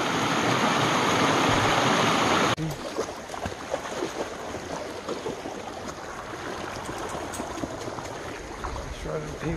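A stream swollen after flooding rains rushes steadily and loudly at first, then continues as a softer flowing babble with rustling movement nearby as it is crossed.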